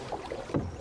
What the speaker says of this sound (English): with two of us paddling, we can really get moving